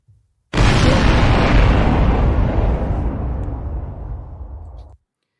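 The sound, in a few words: explosion sound effect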